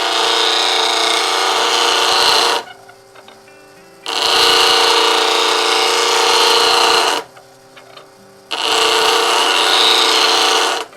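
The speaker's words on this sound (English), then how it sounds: "turn on my low-speed grinder, let it build up to speed" A low-speed bench grinder sharpens a lathe roughing gouge in three loud grinding passes of a few seconds each, separated by brief quieter gaps where the machine hums, with no talk.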